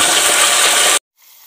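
Green chilli pieces hit hot oil in a pan with cloves and a bay leaf for goat trotter soup, giving a loud, steady rushing sizzle that cuts off abruptly, then a faint hiss.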